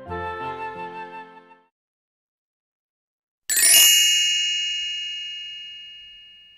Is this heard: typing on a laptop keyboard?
no